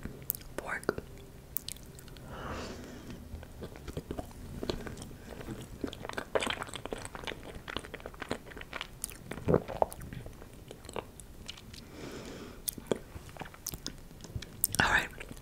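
Close, soft crunching and chewing of the chocolate layer of a rainbow cake taken with a fork, several quiet bites and mouth sounds mixed with faint whispery breaths across a hushed room.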